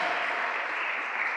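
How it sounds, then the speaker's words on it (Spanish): Church congregation applauding steadily, a dense continuous clapping wash filling the space without pause. "fuerte ese aplauso al Señor."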